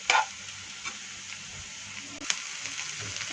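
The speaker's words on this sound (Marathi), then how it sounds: "हे छान मिक्स करून घ्यायचं आणि अजून एक 2 ते 3 मिनिटं परतून घ्यायचं।" Vegetables sautéing in a pan as a filling for stuffed cheesy mushrooms, a soft steady sizzle with a few light stirring clicks, brief and close.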